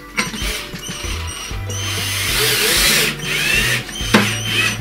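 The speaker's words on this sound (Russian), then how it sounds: "Вам понадобится отвертка или шуруповерт." Electric screwdriver driving screws into parts of a small table during assembly, whirring in short repeated bursts with brief pauses between them, fairly close and heard alone.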